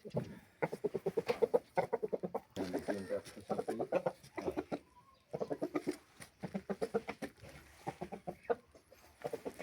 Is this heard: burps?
no